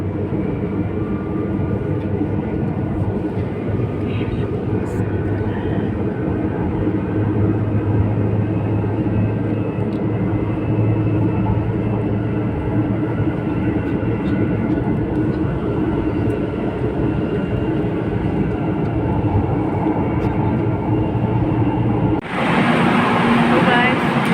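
Steady rumbling roar inside a moving MRT train nearing Santolan station, continuous loud rolling noise with faint voices underneath and a brighter hiss rising near the end.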